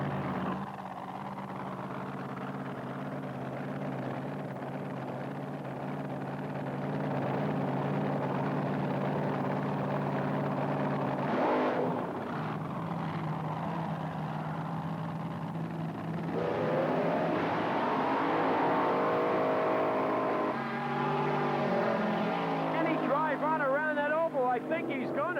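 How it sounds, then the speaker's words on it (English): A supercharged, fuel-injected, alcohol-burning big block Chevy drag racing car at a 1980s Australian drag meet roars steadily under continuous commentary, with the engine revving up harder near the end. "car powered by another big block supercharged fuel-injected alcohol-burning Chevy"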